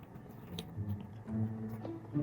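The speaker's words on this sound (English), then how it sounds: "I'm just eating this waffle like by myself" Someone chews a crunchy plain waffle close to the microphone, giving quiet, irregular crunches and soft mouth sounds with no talking.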